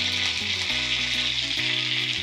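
Garlic and curry leaves fry in hot oil for a tempering, a loud, close, continuous crackling sizzle with a steady background hum.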